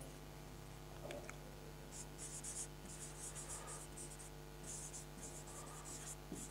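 A teacher writes on a classroom board, faint scratchy strokes in short bursts over a steady low hum, quiet and without talk.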